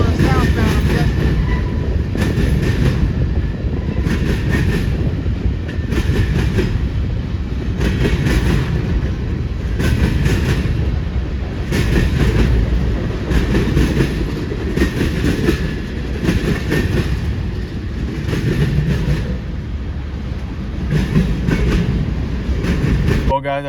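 A freight train with an ES44DC locomotive rolls past in Erlanger, producing a sustained loud rumble with regular rhythmic wheel clacks that repeat steadily as the cars go by.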